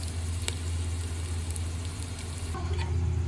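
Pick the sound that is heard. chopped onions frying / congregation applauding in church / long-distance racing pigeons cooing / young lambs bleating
chopped onions frying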